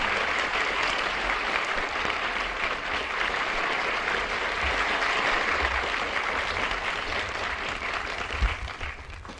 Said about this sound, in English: I'm sure that the applause indicates the gratitude to you of the numerous students from various classes who've met here